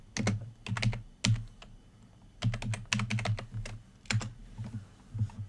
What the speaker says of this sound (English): sorry if that typing's loud.